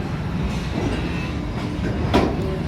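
A train rolls past at Cedar Point amusement park with a continuous rumble and clattering wheels, and a brief squeal or clank rises near the end as it clears the crossing.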